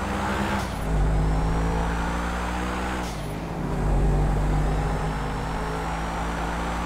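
A BMW M3 drives in GTA V, its steady engine drone swelling twice as it accelerates, loud and close with no one talking.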